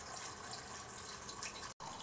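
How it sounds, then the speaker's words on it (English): Water running from a faucet, a steady, fairly quiet hiss of flowing water with one brief cut near the end. "it's my magic faucet"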